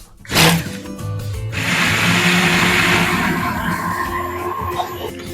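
An immersion blender whirs through a citrus honey vinaigrette of olive oil and salt, starting with a sharp burst and then holding a loud, steady grinding drone for several seconds.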